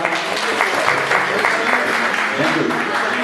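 Audience applause fills a Hindi poetry and song gathering at a Hindu temple in Montreal, a steady dense clapping wash that stays loud and even throughout without clear breaks.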